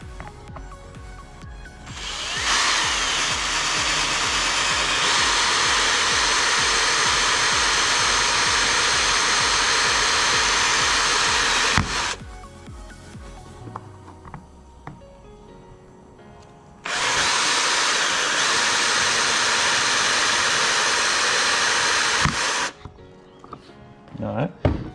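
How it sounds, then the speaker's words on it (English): A power drill boring a hole in the center of a part for a DIY liquid fertilizer station, two long, loud, steady whirring runs separated by a quieter pause with rustling and handling. "First thing we're gonna do, drill it. I like to drill a hole right here in the center."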